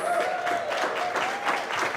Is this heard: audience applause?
yes